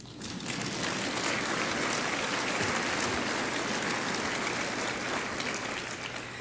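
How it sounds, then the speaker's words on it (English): Audience applause at a State of the City address, a dense, sustained roar of clapping from a large crowd that holds steady the whole time and stands alone without any talk. "you can clap on that one"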